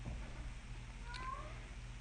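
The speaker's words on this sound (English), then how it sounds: "And my cat, he wants to come in here." A house cat outside a door, wanting to be let in, gives a single short, faint meow midway over a quiet low background hum.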